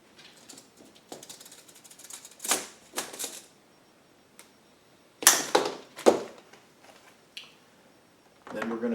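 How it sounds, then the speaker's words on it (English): A section of 1/4 inch fuel hose for a Wen 6800W generator fuel kit is cut, giving short snipping and crunching bursts at close range, with quiet gaps between. "cut an 8 1/4 inch section of 1/4 inch hose"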